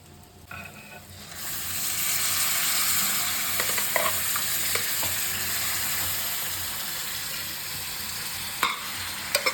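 Mutton tossed into masala in a hot pan for mutton chukka, an abrupt rise into a loud, steady sizzle with intermittent spatula taps and scrapes, a few sharper clinks near the end.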